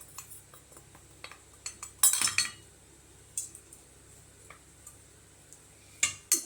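Masala being mixed into mashed potato with a utensil in a bowl, faint soft taps and clinks scattered over a quiet background, with a few louder scrapes and knocks.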